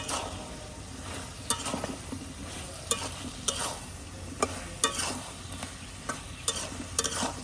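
Eggplant pieces frying in hot oil with prawns and spices, a steady sizzle broken by repeated sharp scraping clicks of a spatula stirring the pan, close and alone without talk.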